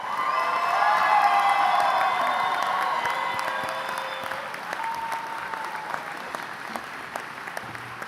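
An audience at a Central Ohio Technical College spring commencement applauds the new graduates, with a sustained roar of clapping and some cheers and whoops that slowly fades into lighter scattered claps.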